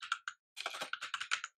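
Code typed on a computer keyboard: a quick run of close, crisp key clicks in two bursts with a short pause between, alone and quiet.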